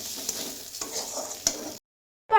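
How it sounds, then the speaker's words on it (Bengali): Spatula scraping and stirring food in a hot pan as it fries, a few sharp knocks over a soft sizzle, then a brief silence and another short burst. "চলো ভালোভাবে নাড়িয়ে চাড়িয়ে নিই।"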